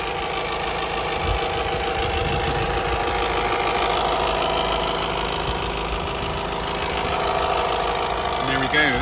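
A Honda CR-V engine idles in the open bay, a steady mid-pitched hum with light ticking, heard up close and even throughout, while someone speaks briefly.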